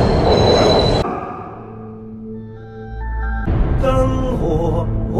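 A train rumbles close by with screeching wheel squeals and metallic tones, the roar dipping midway before surging loud again.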